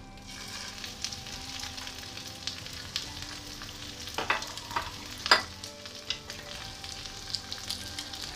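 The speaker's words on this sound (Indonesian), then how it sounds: "Setelah minyak panas, kemudian goreng tahu yang sudah diisi daging" Quiet, steady sizzling of tofu stuffed with minced beef frying in hot oil over medium-low heat, with a few sharper pops and crackles scattered through the middle.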